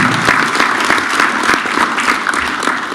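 An audience at a formal project launch event gives a Nigerian state Governor a sustained round of applause, dense and loud throughout, with no speech over it.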